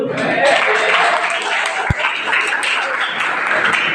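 A school seminar audience claps steadily in a dense, continuous patter of applause, close and fairly loud throughout.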